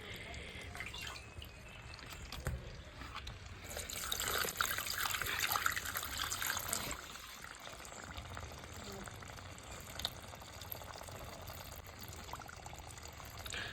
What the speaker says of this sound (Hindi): बबल्स बरे येता, आवाज बरो दिसता बबल्सांचो, गुडगुड गुडगुड गुडगुड करून।